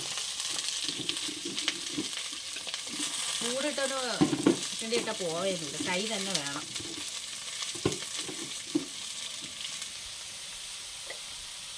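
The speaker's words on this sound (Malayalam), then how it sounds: "സവാള ഇട്ട് കൊടുക്കാം ഞാൻ കൂടുതൽ കൂടുതൽ സവാളയാണ് എടുത്തിട്ടുള്ളത്" Onions sizzle and hiss steadily in a hot pan while a spoon stirs them in repeated scrapes, and someone speaks briefly over the frying midway.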